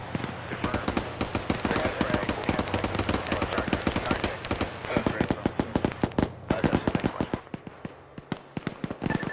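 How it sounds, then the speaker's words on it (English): Machine gun fire in the military video game Arma 3, with gunners trading sustained rapid bursts that crackle loud and dense for the whole stretch, a few short pauses between strings of shots, and faint voices now and then underneath. "you got guys with MGs shooting at each other"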